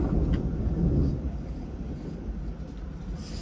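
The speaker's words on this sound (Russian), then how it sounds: "Слышишь, как гром гремит, да?" Deep thunder rumbles through a storm, a broad low roll that swells in the first second and then lingers steadily in the background without any voices over it.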